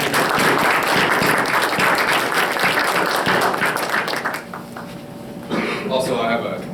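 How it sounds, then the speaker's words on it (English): Loud, dense applause from a school board meeting audience honoring students, many hands clapping steadily before tapering, then a brief renewed burst with some talk underneath. "a round of applause for these kids."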